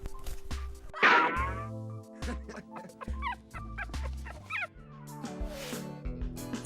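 A dog barks in short yips and lets out whimpers, the sounds close and repeated, with quiet gaps in between.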